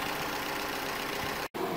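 A car engine idles steadily after being dropped back into the car and restarted, a constant near rumble broken by one brief cut-out before it resumes.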